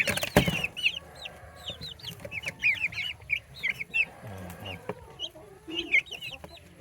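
Two-month-old Rhode Island Red chicks clucking and peeping close by, a busy run of short high chirps and soft clucks overlapping throughout, with a brief bump near the start.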